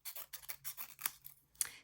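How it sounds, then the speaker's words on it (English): Quiet, repeated snips of scissors cutting 6x6 scrapbooking paper, a quick run of short, crisp cuts close by with no talking. "I'm just going to cut mine off a little bit."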